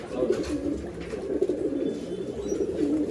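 A pair of pigeons, a male and female offered for sale in Bangalore, making steady low rolling coos, close and continuous with a faint bit of background chirping.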